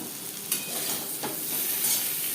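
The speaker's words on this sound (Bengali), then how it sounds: "আলু হালকা করে ভাজা হয়ে গেছে" Potatoes fry in a pan while being stirred: a soft, quiet sizzle with a few scraping stir strokes over a couple of seconds, and no voices.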